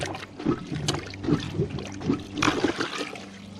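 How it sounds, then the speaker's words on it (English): A plunger works water in a clogged toilet bowl, making rhythmic sloshing and gurgling pulses about every half second, close and moderately loud. "we're going to start by getting some water into that plunger, and then we're going to see if we can't just push this stoppage out of here."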